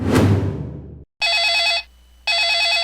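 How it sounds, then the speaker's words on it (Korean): A telephone rings in two loud electronic bursts with a pause between them, each made of rapid trilling pulses, following a brief crash of noise at the start. "집으로 전화벨이 울렸습니다"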